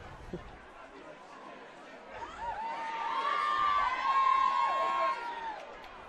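Spectators at a women's university varsity rugby match in Plymouth chatter and then swell into louder cheering and excited shouts, rising midway and easing toward the end, with commentators talking over the crowd.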